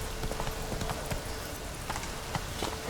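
A horse's hooves clip-clop in The Witcher 3 video game, an even trotting rhythm of sharp knocks over a steady ambient bed of game sound.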